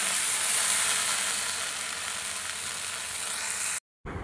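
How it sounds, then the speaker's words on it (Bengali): Okra fries in oil in a wok with a steady, bright, continuous sizzle, close and fairly loud, cutting off abruptly near the end before resuming briefly. "ভেন্ডিগুলো ভাজা হয়ে গেছে, আমি মাঝখানে একবার নেড়ে দিয়েছিলাম,"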